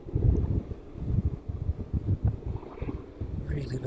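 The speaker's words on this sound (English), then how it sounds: "Really making it difficult now with the wind gusts." Gusty wind buffets a microphone at an airport, giving low rumbling bursts that surge and fade unevenly throughout, with a faint higher tone creeping in near the end.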